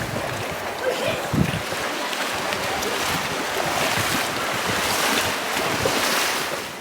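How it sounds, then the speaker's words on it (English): River water rushes steadily through The Narrows slot canyon in Zion National Park, Utah, a dense, continuous roar with wind buffeting the microphone throughout. "I'm gonna cross this river one last time to get to the other side over there"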